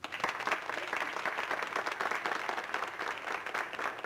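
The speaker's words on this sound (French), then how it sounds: "On les félicite et on les applaudit." Applause at a Soirée Canadienne in Sainte-Monique, 1979, congratulating Herman Beauchemin and Hubert Pinard: a soft, dense wash of many hands clapping, even and continuous, heard from some distance with no talk over it.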